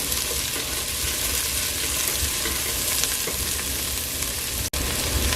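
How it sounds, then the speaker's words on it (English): Onions sizzling steadily in olive oil in a pan while pollo en fricasé is cooked, a dense continuous frying hiss with faint stirring scrapes close by and no voices. "Now I'm going to add my onions,"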